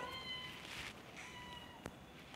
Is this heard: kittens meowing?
yes